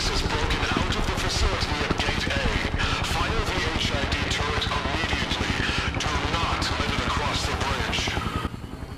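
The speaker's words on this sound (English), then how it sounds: "okay, so they're shooting now." Gunfire in the horror video game SCP Containment Breach, a dense stretch of rapid shots and clatter holding steady and loud under game noise until it thins near the end, with someone talking over it.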